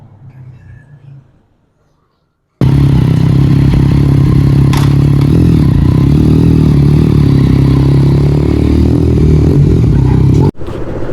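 A 2024 Yamaha MT-09 motorcycle starts up and runs on a test ride, its steady, loud engine drone held close for several seconds before cutting off abruptly.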